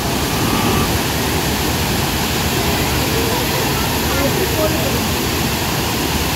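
Thirparappu waterfall pours with a steady, loud broadband rush of falling water that fills the whole scene without pause, close by and constant.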